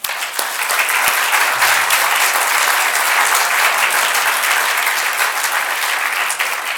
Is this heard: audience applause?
yes